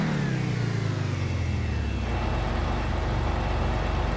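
A Penetrator sports car engine from GTA 5 idles and revs inside a garage, a loud, continuous throaty rumble whose pitch sweeps down and then settles into a steady burble.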